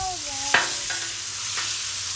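Tomahawk ribeye searing in butter on a Blackstone griddle: a steady, close sizzle runs throughout, broken by a couple of sharp clicks, with no talking.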